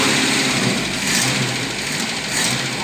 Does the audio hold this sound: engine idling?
yes